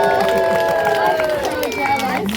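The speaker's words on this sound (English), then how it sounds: "Give yourselves a round of applause, everyone." A holiday show crowd at Epcot's International Festival of the Holidays in Disney World breaks into steady applause, a dense patter of clapping heard beneath sustained musical tones.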